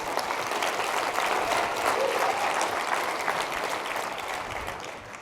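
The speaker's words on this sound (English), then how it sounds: "Please, can we have a round of applause for GLENN SANFORD?" An event audience applauds for an honored guest, a loud, dense, sustained round of clapping that holds steady for several seconds and tapers slightly at the end.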